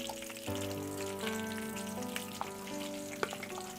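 Whole olives fry in oil for a pickle, making a soft, steady sizzle that rises when the olives go in, with light stirring clicks and scattered pops.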